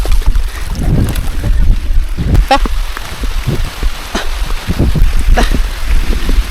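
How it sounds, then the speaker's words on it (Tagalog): Heavy rain drums on a motorbike rider and the surroundings in a steady, loud wash with gusty wind buffeting the microphone, while a man mutters a couple of short words. "Grabe lakas ng ulan."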